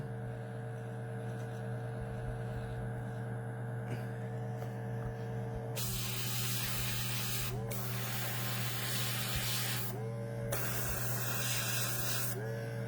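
An airbrush with a bent needle sprays paint on a miniature, making two bursts of hissing air over a constant low hum of a compressor nearby.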